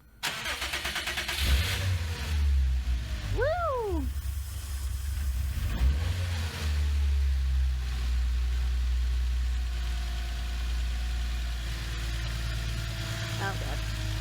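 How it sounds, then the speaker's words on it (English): A Subaru Impreza WRX STi with an H6 swap cranks briefly, catches and fires up, then settles into a steady, loud idle that continues to the end; a person whoops and talks over the engine. "Eventually, after months of mechanical and wiring work, the car fired up."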